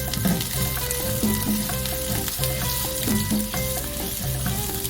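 Curry leaves dropped into hot oil crackle and sizzle continuously at moderate loudness, with a busy, uneven texture throughout and no voices.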